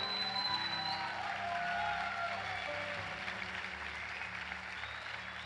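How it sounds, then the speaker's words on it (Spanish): A church congregation applauds in a steady, even wash of clapping that holds for several seconds, moderately distant and slightly fading toward the end. "Dele un aplauso al Señor por eso."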